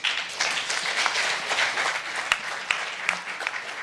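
A crowd applauds steadily at a climate adaptation dialogue, a dense wash of clapping with a few sharper individual claps standing out.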